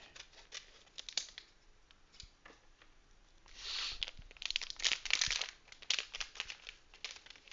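An antistatic envelope holding a small Morse trainer device being handled and opened, crinkling and rustling plastic in scattered bursts that swell in the middle, close and fairly quiet.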